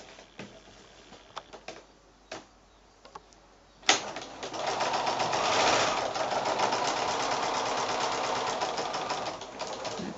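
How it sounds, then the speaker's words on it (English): A few faint clicks and taps, then a sewing machine starts up and runs steadily, foundation-piecing a quilt block with a fast whirring rattle until near the end. "And then back to the sewing machine again."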